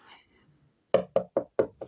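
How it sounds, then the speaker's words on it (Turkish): Five crisp knocks land on a door in a quick, even rhythm, loud and close, after a moment of near silence. "Aa kapı çaldı."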